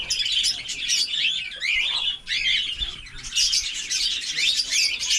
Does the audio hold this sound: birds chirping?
yes